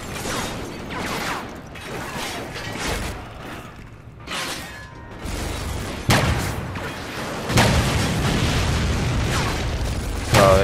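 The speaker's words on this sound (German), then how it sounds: "Rechts hat es explodiert." Bursts of crashing, booming explosions and shattering debris in Call of Duty: Ghosts come in waves, with rumbling and mechanical clatter in between, loud and busy.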